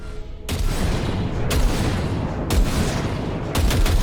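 Weapon calibration in Cyberpunk 2077: four loud, close gunshots fire one by one at steady intervals of about a second, each a sharp blast over a constant rumbling background.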